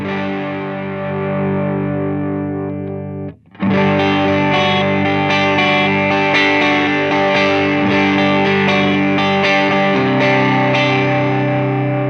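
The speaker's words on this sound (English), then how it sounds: "I really like the bottom position, which is the diode clipping switch through a clean amp, because you can really hear how it saturates." A Friedman Golden Pearl overdrive pedal in diode clipping mode through a clean amp gives a loud, saturated guitar: one held chord, a brief pause, then a dense stream of driven strummed notes that keeps going to the end.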